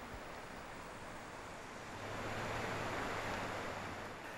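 The Merced River in Yosemite runs beside Pohono Bridge, a steady broadband rush of moving water with a faint low hum underneath that swells slightly partway through, heard alone with no voices.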